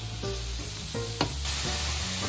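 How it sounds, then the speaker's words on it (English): Grated carrots and celery are stirred together in a pan, with a low steady sizzle and a few scraping strokes of a utensil, heard close and without talk. "now we're going to go ahead and mix it all together with our celery"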